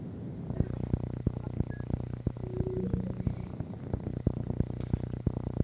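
Soft, close purring from a cat, rhythmic pulses repeating steadily over a quiet background hum, with no talking.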